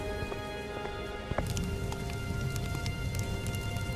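Unseasonal winter rain falls steadily, a dense, even patter with scattered drips and a sharp tap now and then, continuing without a break and with no voices.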